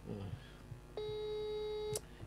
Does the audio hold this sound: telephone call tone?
yes